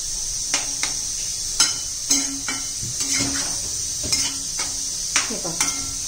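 A spoon stirs green bean and carrot sabzi with roasted peanut powder in a pan, producing irregular scraping knocks and clinks against the metal over a steady sizzling hiss of frying.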